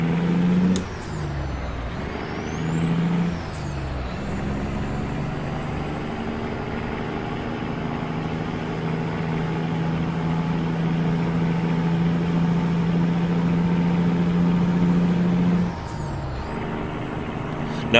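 A cab-over truck in the American Truck Simulator game drives steadily with a loud, continuous engine drone and a high whine, and an air-brake hiss comes near the start and again near the end.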